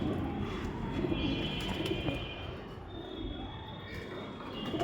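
Pigeons cooing amid a steady wash of ambient noise in a loft of high-flying birds, with soft, low murmuring coos continuing throughout at moderate distance.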